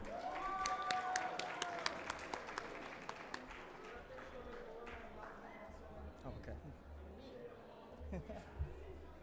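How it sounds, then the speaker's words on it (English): Scattered audience applause at a Diversity Comic Con civility week event, fading from a brisk burst of claps to thinner, sporadic clapping, with crowd voices and chatter mixed in. "Let's give everyone a round of applause."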